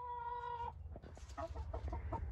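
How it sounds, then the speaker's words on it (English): A hen clucks on a new branch roost inside a wooden pallet coop, a sustained tonal call followed by a series of short, close clucks and murmurs. "Mommy Chicken's going to be the first one to try out the tallest one"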